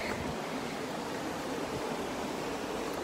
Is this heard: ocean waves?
yes